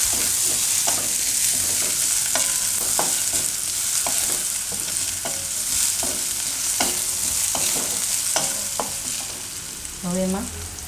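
Green garlic fries in a pan on low heat, a constant sizzle broken by repeated sharp scraping strokes of a spatula, a louder clatter near the end, no speech.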